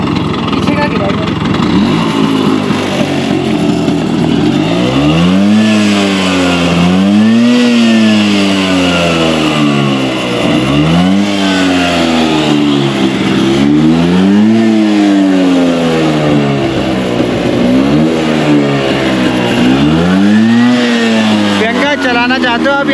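A scooter engine is hard revved while being ridden through a river, rising and falling in repeated loud surges that climb sharply then drop back, close and dominating throughout.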